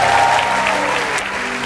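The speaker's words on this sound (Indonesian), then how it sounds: "tepuk tangannya gak boleh kalah meriah ya" A church congregation applauds indoors, a dense, steady wash of clapping at full volume throughout the short burst, with a faint voice underneath.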